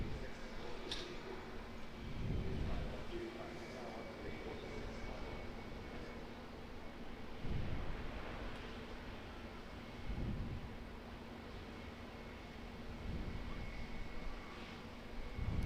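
A Qantas 737 arriving from Sydney at Auckland Airport gives a steady, broad jet roar from a middle distance, with gusts of wind buffeting the microphone throughout.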